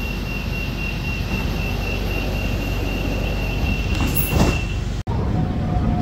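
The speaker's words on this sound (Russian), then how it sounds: "Только почему-то этот поезд сильно трясет." A train rocks and shakes hard on an elevated line curving past skyscrapers and wide highways toward Pha Ngan, giving a steady loud rumble of rail noise with squealing wheels, a brief rattle near the end and a sudden short dropout.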